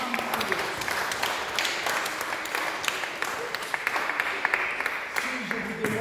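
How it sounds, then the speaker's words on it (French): A crowd of mourners claps at a funeral for a mother, a fairly faint, sustained patter of many hands with voices speaking over it. "I want you to clap for our mom."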